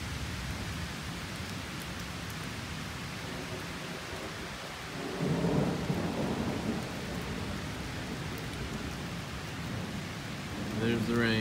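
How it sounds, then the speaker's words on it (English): Constant downpour with low thunder rumbling, a swell of louder rumble midway, and a brief voice near the end. "There's the rain."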